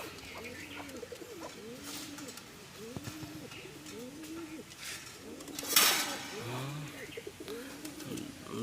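Domestic pigeons, including Saharanpuri crows, coo in repeated low rolling calls from several birds close by, with faint chatter and cage noise in the background.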